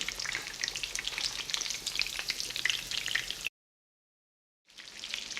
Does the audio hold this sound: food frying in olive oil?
yes